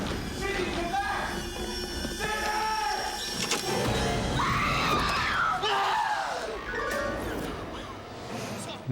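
A man screams loudly and wildly in a scene from the 1996 horror film Scream, a long improvised string of yells and shrieks over dramatic soundtrack noise.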